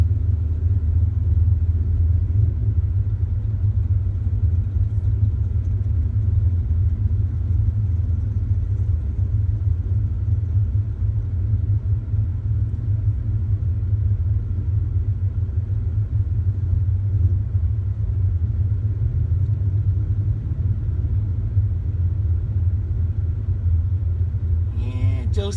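The Cambridge family buggy and the I Love It Jeep rumble at a drag strip, a continuous loud low engine drone running steadily throughout, with a faint voice underneath.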